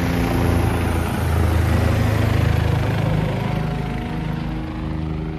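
A steady low rotor drone and engine rumble, continuous and fairly loud, like a helicopter passing at moderate distance with broadband outdoor noise, in the mountains at Kedarnath.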